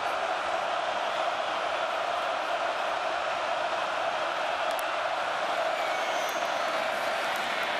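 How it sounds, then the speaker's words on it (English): A football stadium crowd at Michigan State versus Ohio State roars in a dense, continuous wall of cheering and whoops, loud and steady across the whole stretch. "Crowd roaring."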